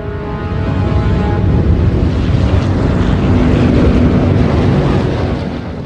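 Military airplanes approaching overhead in wartime Indochina, a broad rumbling engine roar that swells steadily and stays loud before easing slightly at the end.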